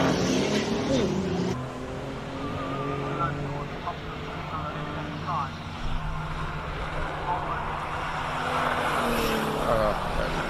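Race cars on a hillclimb run at the Simola Hillclimb King of the Hill event roar steadily with shifting engine pitch, heard under continuous commentary.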